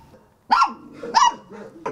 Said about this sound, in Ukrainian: Сторожить подвір'я один пес.